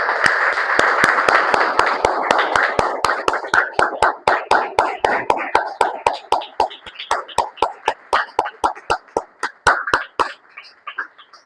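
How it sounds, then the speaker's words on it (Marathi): A church congregation clapping loudly in praise to the Lord, a steady, fast unison rhythm of sharp claps that continues for about ten seconds, tapers and then stops. "आपण प्रभूसाठी जोरदार टाळ्या वाजवू"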